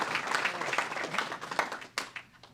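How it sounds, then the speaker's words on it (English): Luncheon crowd applauds a county administrator, a brief, moderately loud patter of many hands clapping that thins out toward the end. "Make sure you give a really big applause for John Eggerston"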